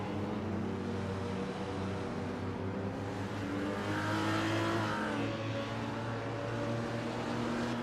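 A 1959 Maserati Tipo 61 Birdcage racing engine in a racing video game, a steady droning engine note that climbs in pitch midway as it revs, continuous and fairly even with no talking.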